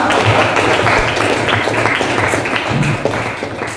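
A classroom audience gives applause for a classmate, a steady dense patter of many hands clapping that runs throughout and tapers slightly toward the end.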